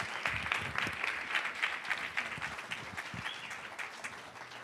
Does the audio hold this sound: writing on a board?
no